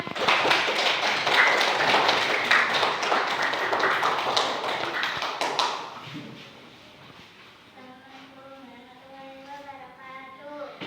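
Classroom applause: many pupils clapping together in a dense, loud burst for about six seconds, then fading out as a voice begins speaking.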